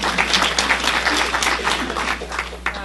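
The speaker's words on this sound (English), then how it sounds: "A big round of applause for League of Women Voters." An audience bursts into sustained applause for the League of Women Voters at a get-out-the-vote event, a dense, steady wash of clapping from start to finish with no one speaking.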